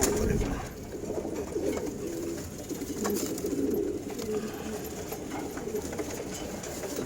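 Pigeons kept in a coop coo softly and steadily in the background against a noisy, busy ambience in Wari, Dhaka, with no clear foreground sounds.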